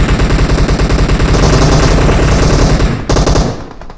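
Loud, sustained automatic gunfire aimed at a BRDM armored vehicle in a battle royale video game, rapid bursts rattling almost continuously, with a brief break near the end before more shots.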